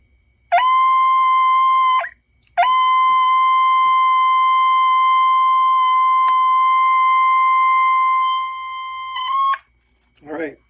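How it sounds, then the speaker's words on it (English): A Bulova transistor radio watch alarm sounds as a loud, steady electronic beep. A short burst is followed by a brief pause and then a long sustained tone of about seven seconds, close and alone, ending just before a voice. "so we know the alarm works"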